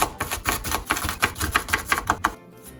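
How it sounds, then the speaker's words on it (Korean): A knife chops green onion on a board in a quick, even run of about a dozen sharp taps, close and clear, ending abruptly into quiet with no voices. "파 한 뿌리를 준비해 주시고요. 송송송 썰어 주시면 됩니다"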